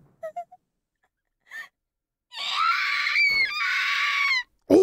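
A loud, shrill scream rings out in the Corpse Party video game, following a few short faint sounds and lasting about two seconds. A brief sharp cry comes after it.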